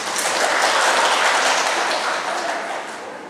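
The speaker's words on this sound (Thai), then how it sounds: "ขอเสียงปรบมือต้อนรับ" A seminar audience in a meeting room gives a loud, hissing burst of applause to welcome a speaker, steady at first, then fading slightly near the end.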